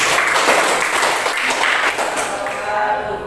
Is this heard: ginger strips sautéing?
no